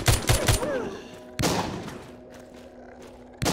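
Gunshots in the zombie video game The Walking Zombie 2: a quick cluster of sharp shots at the start, then two more separate loud bangs, with faint background game sound between.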